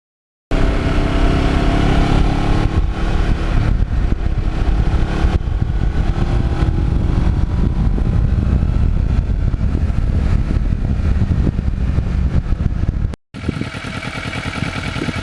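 A restored 2009 Kawasaki Ninja is ridden at steady speed, its engine droning loudly and continuously under heavy wind rush before cutting out briefly and returning a little quieter.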